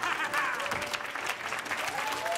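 An SNL studio audience cheers and claps, a moderately loud mix of applause with faint voices and a few whistle-like tones over it.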